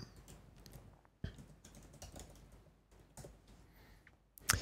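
Quiet typing on a computer keyboard, irregular soft key clicks at a distance with one louder clack near the end, no talking.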